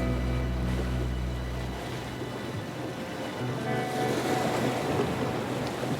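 Steady roaring hurricane wind and rushing waves in a shipyard video game fill the whole stretch, a dense continuous wash of storm noise with no pauses.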